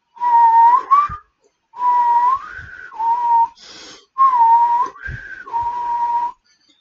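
Someone whistles a series of short phrases, the pitch bending and sliding as the tongue position shifts, with breathy gaps and small breath noises between notes.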